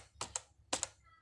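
A handful of sharp computer keyboard key presses, ending with the Enter key, coming in two quick pairs of clicks, close and clear with quiet gaps between.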